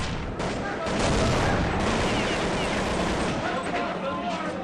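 Rapid gunfire from a first-person shooter esports match rattles densely and continuously, overlapping bursts and shots at close range, with commentary voices partly mixed underneath.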